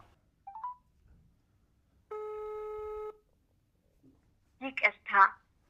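A phone call tone after dialing, a single steady electronic tone about a second long sounding faintly on its own, followed by a person talking.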